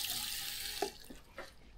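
Water runs steadily from a hand-washing sink tap at a newly built campsite in Atok, Benguet, making a close, continuous splashing hiss that thins out toward the end, with a few soft knocks.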